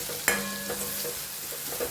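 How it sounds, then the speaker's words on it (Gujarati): Tomatoes cooking in a pan after salt is mixed in, giving a soft steady sizzle, with a sharp clink of a stirring spoon early on and faint scraping afterward. "થોડીક વાર ટામેટાને આપણે પાકવા દઈએ."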